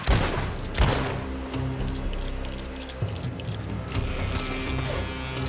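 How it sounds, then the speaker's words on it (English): Gunfire in Red Dead Redemption II, a dense rapid volley of shots with strong early blasts, then continued crackling fire under a rumbling background. "I was shooting at Micah."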